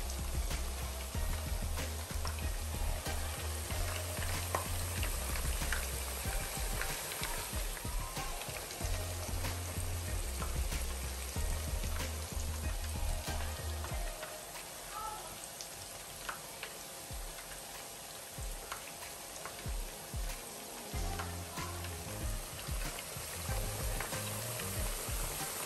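Two large onions and more than half a kilo of mince fry in a pan for chicken pakora, making a steady, faint sizzle and crackle throughout with no talking.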